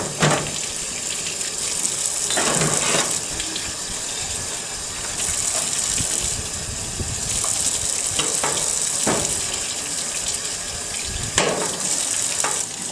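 Tap water runs and splashes while dishes and bowls are rinsed clean in an industrial kitchen sink, a continuous gushing wash with intermittent louder splashes and clinks, no talking.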